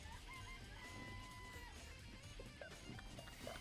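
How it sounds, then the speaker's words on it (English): Chickens in a coop from the Danganronpa video game cluck and crow faintly over a steady background hum, with a few short calls scattered through. "I remember there were some chickens in the coop."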